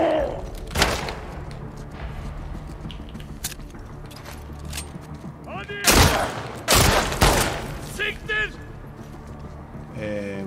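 Gunfire rings out in The Last of Us Part II, several sharp loud shots in scattered bursts with heavier blasts near the middle, mixed with footsteps, thuds and grunting voices.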